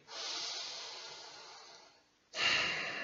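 Slow, deep breathing through the nose: a long, airy inhale that fades gradually, a brief pause, then a stronger, louder exhale close to the listener, with no talking.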